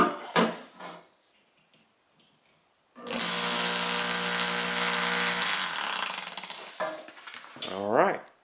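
A Bolton Tool CS 34 coolant pump switches on and runs with a loud, steady mechanical whir for about three seconds, then winds down, with brief talk before and after.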